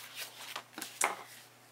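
Tape being cut off during a paper-crafting album project, a few quick soft rustles and snips close by, the last one sharpest, with no talking.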